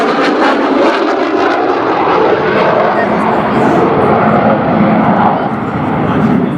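F-18 Hornet jets fly in for the break at a Marine Corps air station airshow at Cherry Point, a loud continuous roar of jet engines with a voice faintly mixed in.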